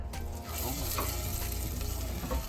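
Butter heating in a medium saucepan over medium heat, giving a steady, fairly quiet sizzle and crackle that runs evenly through the whole short stretch with no voices.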